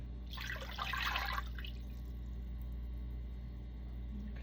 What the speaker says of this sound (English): First, to our bowl, we'll add our warm water.